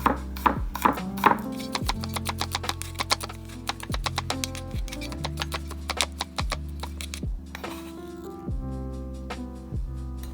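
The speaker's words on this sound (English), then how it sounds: "we're just going to start chopping down our garlic." A knife rapidly chopping garlic on a cutting board, a steady run of close, crisp taps that thins out toward the end, with no talking.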